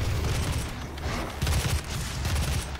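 Dense rapid gunfire from the video game DOOM, a loud continuous fusillade of overlapping shots and booms filling the clip with no break.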